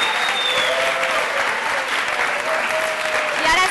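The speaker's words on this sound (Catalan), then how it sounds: "Un aplaudiment per tots dos aquí." Dense audience applause fills a game-show studio right after a round is cleared, a steady wash of many hands clapping at full volume with faint crowd voices underneath, running unbroken throughout.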